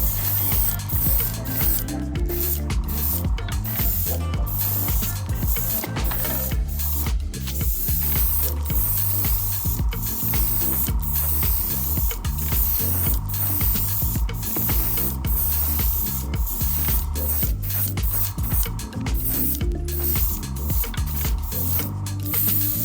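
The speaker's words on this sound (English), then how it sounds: "White primer is then used over the black to help bring out the whites." Aerosol can spraying white primer onto a miniature Chevy S-10 lowrider model, a continuous hiss in long bursts with brief gaps, over steady mechanical background noise.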